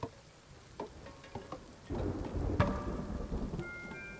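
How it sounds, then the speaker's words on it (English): Thunder rumbles in the video game Kingdom Two Crowns, a low rolling boom swelling over steady rain after a few scattered clicks and taps. "Don't like that thunder sound."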